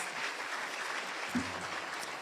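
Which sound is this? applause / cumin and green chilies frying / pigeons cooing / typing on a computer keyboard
applause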